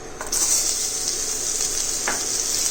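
Chopped onions hit hot oil in a pan with asafoetida, giving a loud, steady sizzle that bursts in at once and holds evenly, with a brief stir scrape partway through.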